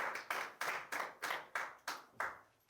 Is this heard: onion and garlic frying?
no